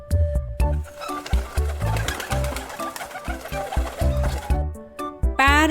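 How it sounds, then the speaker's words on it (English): A pigeon coos softly, the low, rolling calls partly buried under busy, rhythmic background music. "Pigeon. This is pigeon."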